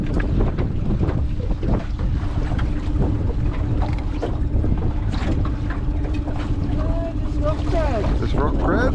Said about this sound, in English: The wind down here in South Australia this time of year can drive you crazy.